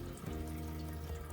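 Water runs steadily from a tap on a campervan hot water system, a constant close rushing flow with a low hum underneath.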